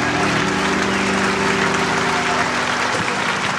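A concert audience claps at a large solo show, giving a dense, sustained wash of applause, loud and continuous throughout, with a faint musical tone lingering underneath.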